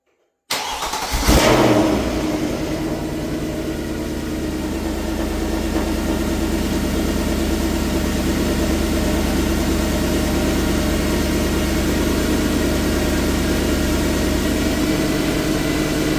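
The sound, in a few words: Mercedes E63 AMG engine starting and revving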